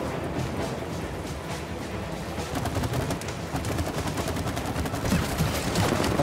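Dense, continuous shooting in the co-op video game It Takes Two: rapid overlapping shots with a steady rattle that grows slightly louder toward the end.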